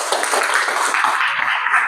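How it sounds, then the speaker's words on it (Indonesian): A group of people clapping their hands together during a class session: dense, steady, fairly loud applause that runs without pause for about two seconds, with no talking. "Jadi tepuk tangan dulu untuk kita semua."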